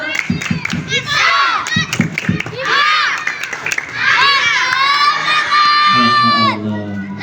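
Schoolchildren at a Maulid Nabi celebration at a primary school doing a spirit clap and cheer: rhythmic group claps followed by loud chanted shouts and a sustained cheer, close and energetic.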